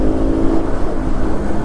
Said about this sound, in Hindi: दूर से ना मैं बहुत टाइम बाद सुन रहा हूँ अपनी गाड़ी की आवाज़।